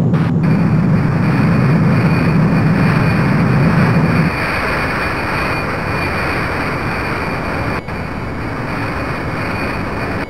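An airplane engine from the 1995 Stunt Island video game drones loudly and continuously, with a heavier low rumble in the first few seconds before settling into a steady, slightly thinner roar.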